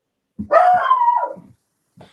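A dog barks once loudly and close, a long drawn-out bark with a howling edge, followed by a brief faint yip.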